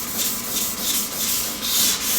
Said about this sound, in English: My goal today is to just get this as smooth as I can